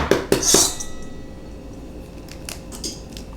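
A few sharp clinks sound as eggs are cracked and dropped into a bowl for a pecan pie, followed by quieter sticky handling noises.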